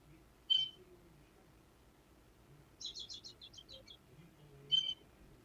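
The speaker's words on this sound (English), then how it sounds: "You hear the birds on there?" Birds chirp outdoors in short bright calls: a single chirp, then a quick run of several rapid notes, then another lone call, all fairly distinct over quiet background noise.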